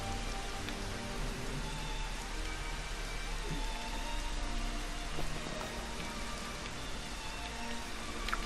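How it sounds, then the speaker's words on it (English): Steady rain falls outside in the video game Final Fantasy XV, a dense continuous patter on surfaces with scattered distinct drops, even and moderately loud without a break. "Okay, now it's raining outside,"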